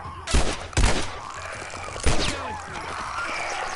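Gunshots in The Last of Us: three loud, close, sharp reports, two in quick succession and a third after a pause, each ringing out over a low game ambience.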